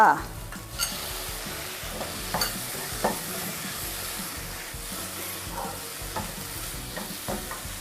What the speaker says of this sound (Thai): พริกเราเริ่มหอมแล้วนะคะ เดี๋ยวเราใส่กุ้งลงไปเลยค่ะ